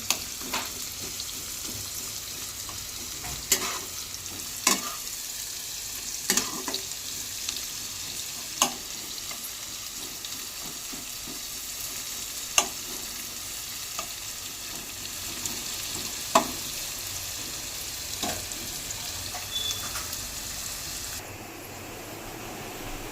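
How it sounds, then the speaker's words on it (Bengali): Sliced onions for beresta fry in hot oil in a kadai, a steady close sizzle broken by periodic sharp scraping stirs of a spatula, ending in a softer hiss. "কড়ায় বসিয়ে দিয়েছি তেলটা গরম হয়ে গেছে এখন আমি কিছুটা বেরেস্তা বানিয়ে নেব"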